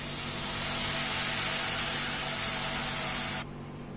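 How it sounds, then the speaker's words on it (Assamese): Milk poured into a hot pan of fried vermicelli gives a loud, steady broadband hiss and sizzle that holds for several seconds, then drops away abruptly near the end. "ইয়াতে দিছোঁ গাখীৰ"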